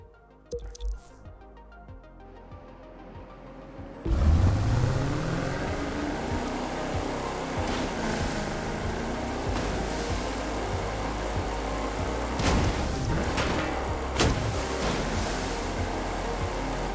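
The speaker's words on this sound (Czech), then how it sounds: "takže se vezmeme loď a objedeme" A boat in the video game The Crew 2 starts from near silence, then an engine rumble and churning waves surge in. Splashes and sloshing water continue steadily, with a few sharper bursts.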